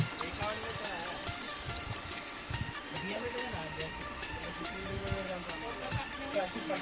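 Fish frying in hot oil, turned back and forth in the pan, producing a continuous crackling sizzle with small pops, while people talk over it nearby.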